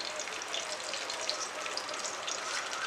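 Radish and potato pieces fry in ghee in a pan, giving a continuous, even sizzling hiss with no pauses.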